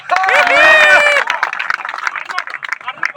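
Audience clapping at a stage comedy show in Bihar, where a performer plays a police constable with trainees; a voice calls out briefly, then a crowd of hands claps and chatters, moderately loud and uneven.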